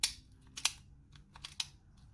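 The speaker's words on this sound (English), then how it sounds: "Steering bolt lock shoots out." The steering bolt lock of a 2014 Ducati 696 Monster motorcycle shoots out when turned with a newly cut key, a few faint, sharp metallic clicks close by in quiet surroundings.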